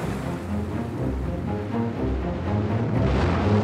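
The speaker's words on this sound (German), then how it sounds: "Stunden später kämpft die Besatzung gegen Sturm und haushohe Wellen." Stormy ocean waves crash against a small boat at sea, a loud, continuous rushing roar of surging swells with no voices.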